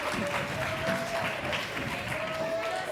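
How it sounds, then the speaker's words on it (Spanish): Dense applause from an audience at a children's science show, steady clapping with crowd noise mixed in, moderately loud throughout, and voices heard beneath it. "Un aplauso para nuestros chicos."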